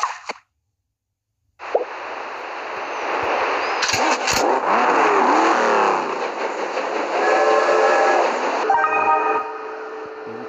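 Engine of a beach buggy racing car in a video game, a steady droning roar that rises and shifts in pitch after a short pause, with game effects layered over it, loud and close.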